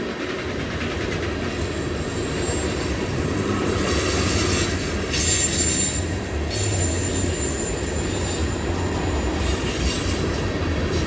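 BNSF freight trains rolling past at Cajon Summit, a continuous rumble of railcars with steady wheel noise and occasional high metallic squeals from the wheels, heard alone.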